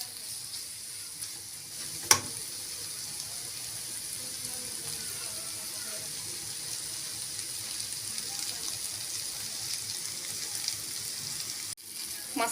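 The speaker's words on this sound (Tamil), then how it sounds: "இந்த மிளகாய் தூளோட பச்சை வாசனை போகிற வரைக்கும் லோ ஃப்ளேம்லேயே வச்சு வதக்கி விட்டுக்கலாம்." Chili powder masala sautés on a low flame for a cauliflower egg fry: a faint, steady sizzle runs throughout, broken by an occasional clink of a stirring spoon against the pan.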